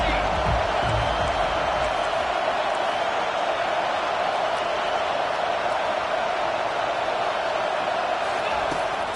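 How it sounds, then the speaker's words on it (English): A stadium crowd roaring at a football game as the defense lines up on third down, a dense, steady, loud wall of noise that holds for the whole stretch, with commentary voices mixed in. "Decibels rising as the crowd gets behind this defense on third down."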